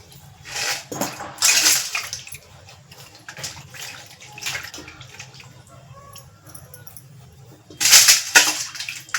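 Silver utensils being rinsed and scrubbed in water, with splashing bursts, trickling, and light clinks of metal against a basin, close and fairly loud at moments.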